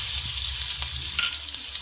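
Ground spice paste tipped into a hot pan of oil with cumin and chilli seeds for a yellow potato dish, giving a steady, close hiss of sizzling with faint stirring scrapes and no speech.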